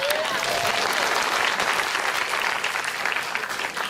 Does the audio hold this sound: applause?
yes